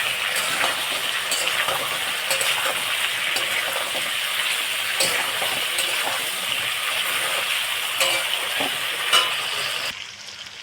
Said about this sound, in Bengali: ভালো করে আমি কষিয়ে নেবো